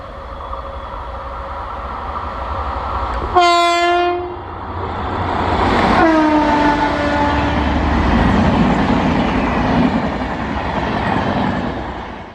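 A WAP7 electric locomotive in 75th Republic Day livery hauls the 18112 Yeshwanthpur–Tatanagar Express past Soldevanalli. Two loud horn blasts ring out over the rising rumble and wheel clatter as the train passes close by.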